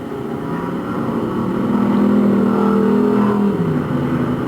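Dirt-track race cars roar past during a heat race, a loud sustained engine drone that swells and rises in pitch toward the middle, then drops off near the end with no talk.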